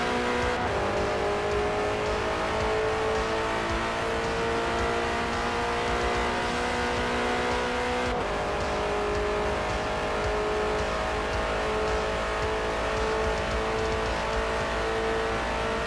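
Race car in the Forza Motorsport video game accelerating at full throttle, a continuous high engine whine climbing in pitch, then dropping at a gear change and rising again, steady and alone at moderate level.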